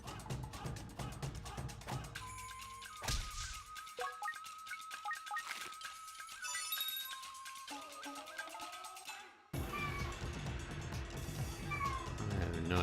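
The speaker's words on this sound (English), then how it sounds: "I have no idea why my cat is yelling at me now." A house cat meows and yowls insistently several times near the microphone, its drawn-out cries layered over continuous electronic game music and chimes.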